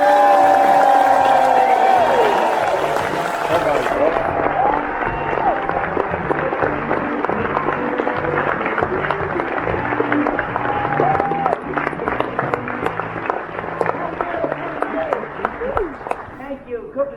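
Glasgow audience at a live comedy show cheering and applauding loudly, a dense wash of clapping and whoops that stays full throughout, with some voices mixed in.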